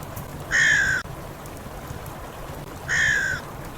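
Two harsh caws from a crow, about two seconds apart, loud and near over a quiet background.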